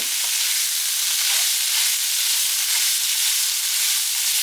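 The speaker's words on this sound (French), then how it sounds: "Le but dans un premier temps, ça va être de saisir le tofu." Tofu with turmeric searing in a hot pan, a steady dense sizzle and hiss that runs unbroken and fairly loud throughout, close up with no voices.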